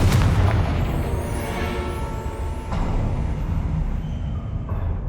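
A Confringo blasting spell goes off in the Hogwarts Legacy video game. It is a loud, rumbling explosion with a sustained deep roar and crackling debris that carries on through the whole moment, with no talk.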